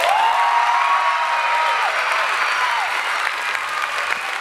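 Sustained audience applause after a student dance show finale, dense and steady clapping filling the hall throughout with no break, alongside a faint held musical tone early on.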